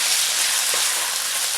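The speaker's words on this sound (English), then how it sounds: "I just want to give this a nice stir." A pan of Cajun penne pasta with chicken and green scallions sizzles in a steady, bright hiss while being stirred, close and unbroken, with no talking.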